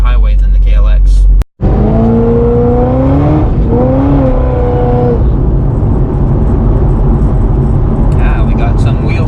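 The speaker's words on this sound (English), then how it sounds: "We got some wheel spin." Supercharged Corvette spinning its wheels on a rainy day, a loud engine roar climbing and falling in pitch with whine, after a brief cutout, with a voice speaking over it.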